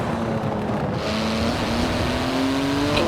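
Porsche GT2 RS with titanium exhaust in Forza Horizon 4 drones loudly and continuously, engine pitch climbing steadily as it accelerates up through the revs.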